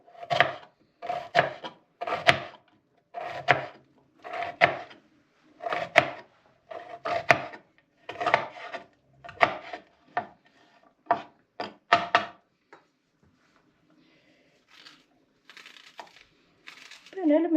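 Two onions being chopped by hand in a home kitchen, a steady run of crisp knife strokes in quick rhythmic bursts that stop partway, leaving near silence before a few faint later sounds.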